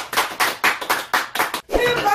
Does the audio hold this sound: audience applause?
yes